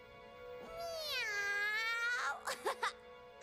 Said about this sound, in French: Un chat! Un chat, c'est l'un des deux célèbres chats!